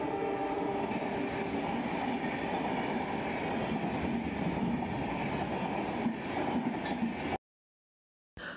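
The Bandhan Express train pulls into Habra station, a loud continuous rumble and clatter of rolling cars that fills the scene for several seconds before ending abruptly.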